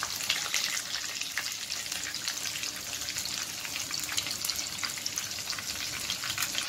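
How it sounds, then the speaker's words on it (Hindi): Chicken pieces frying in hot oil for chilli chicken give a steady, dense crackling sizzle throughout, close and continuous with no talking. "हमारा सेकेंड बैच ऑफ चिकन भी रेडी हो गया है फ्राई होके"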